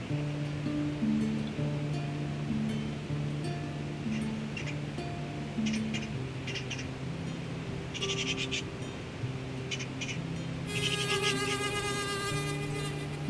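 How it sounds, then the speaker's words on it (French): A small wasp forages on a Silene de Porto flower, its buzzing a steady droning hum that shifts in pitch, with soft outdoor hiss and faint clicks toward the end. "c'est à la fraîche que cette petite guêpe vient butiner sur la fleur"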